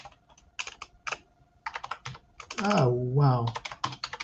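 Quick bursts of clicks and taps on a computer keyboard while coding, with brief pauses between runs of keystrokes; a voice speaks briefly over the typing.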